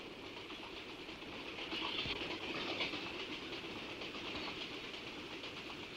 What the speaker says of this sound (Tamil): ஓமனூர் ஸ்டேஷன்ல இந்த வண்டி நிக்கும்ல?